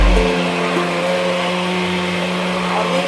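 A kitchen blender purees leek soup with a steady, loud, high motor whine and a constant churning hum, running continuously at close range with no talk.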